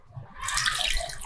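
One cup of water pours into a cooking pot already holding dried Byadgi red chillies, a steady close splash lasting about a second.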